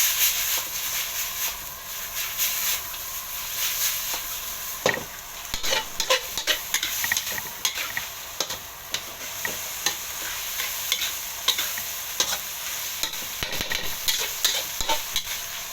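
Pork with holy basil, dried chili and bird's eye chilies is stir-fried in a wok, with a steady hiss and sizzle under frequent sharp clinks and scrapes of a spatula, close up and without talk.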